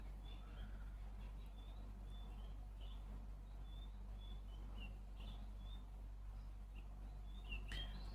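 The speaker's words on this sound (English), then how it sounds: "I wonder if you can hear the night birds outside." Faint night birds calling outside, with short high chirps repeating irregularly over a quiet low hum.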